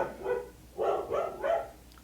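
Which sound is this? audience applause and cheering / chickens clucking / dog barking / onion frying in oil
dog barking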